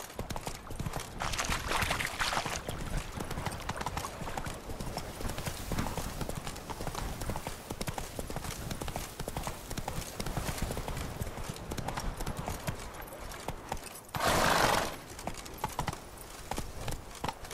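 Geralt's horse Roach gallops in The Witcher 3: Wild Hunt, a steady run of clip-clopping hooves carrying on for the whole stretch, with a louder rushing burst near the end and a rider's voice calling out over it.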